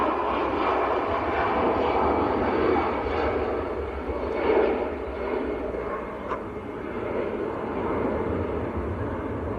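EasyJet airliner departing Manchester Airport for Belfast, a steady broad jet engine roar close by, swelling slightly midway, with no voices over it.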